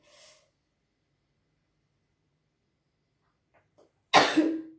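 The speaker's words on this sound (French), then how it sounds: "excusez-moi, je vais éternuer" After a short breath and a long quiet pause, one sharp, loud sneeze bursts out close to the microphone.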